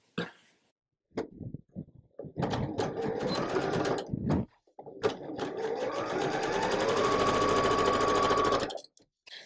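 A sewing machine stitches a Y seam on a quilt block, running in short stop-start bursts at first and then in one long steady whirring run, close and clear, with a few faint knocks between runs.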